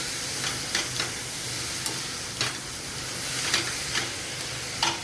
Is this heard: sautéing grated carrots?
yes